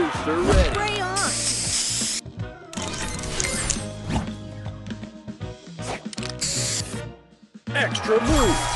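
Spray booster firing in a video game: hissing spray bursts at about 1.3 and 6.5 seconds, mixed into busy, loud game music and effects with no pauses.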